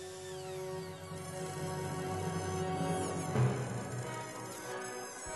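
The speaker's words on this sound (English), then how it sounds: "now I am running a 1/2 inch straight bit through to clear some room for another bit to run inside." A router runs a 1/2 inch straight bit along a fence through wood, giving a steady high-pitched whine that holds level and swells slightly as the bit cuts, with no talking.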